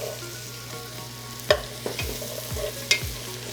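Onions and pancetta frying in a pan under a low, even sizzle, while a utensil scrapes and taps the pan a few times, with two sharper clanks standing out.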